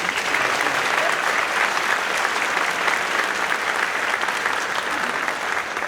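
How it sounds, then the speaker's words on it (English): Loud, sustained applause from a large crowd at a high school senior awards ceremony, steady clapping filling the whole stretch without pause. "So how about a round of applause for all of us?"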